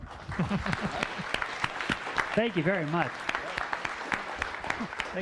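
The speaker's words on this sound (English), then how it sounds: "How about another round of applause?" An audience applauds at a science cafe talk on weather forecasting, steady clapping throughout while someone speaks briefly over it.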